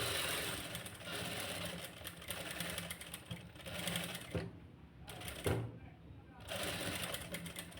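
A sewing machine stitching piping onto a princess-cut blouse neckline, running in rapid mechanical bursts with short pauses, close and steady, with a voice talking over it.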